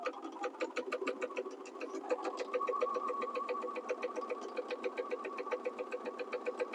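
A sewing machine stitches fabric at a steady pace, a close, even mechanical whir with a regular chattering pulse that speeds up slightly midway, running alone without talk.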